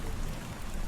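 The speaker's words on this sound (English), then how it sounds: "It is raining" Steady rain falls in the city of Cebu, a dense, even hiss of drops with no other sounds standing out.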